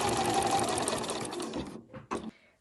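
A sewing machine back-stitches and then runs a seam on an overlocker cover, a close, continuous buzzing whir that stops, followed by two short bursts of stitching.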